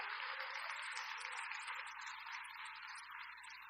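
Congregation applauding together during a church worship service, a steady, dense wash of clapping that holds evenly for a few seconds at moderate distance and fades slightly toward the end.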